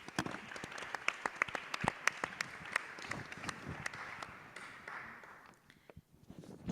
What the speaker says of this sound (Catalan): Doncs un fort aplaudiment per la...